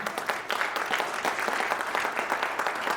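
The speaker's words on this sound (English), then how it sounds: "Can you guys clap for a minute?" Conference audience at a keynote claps together for a few seconds, dense steady applause filling the room without speech.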